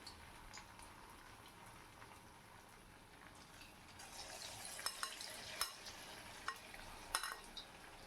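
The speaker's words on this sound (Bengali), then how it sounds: "প্রত্যেকটা স্ন্যাক্স আমি আস্তে আস্তে করে তেলের গরম তেলের মধ্যে ছেড়ে দিলাম" Crispy potato snacks fry in hot oil, giving a faint, steady sizzle broken by a few small pops and crackles.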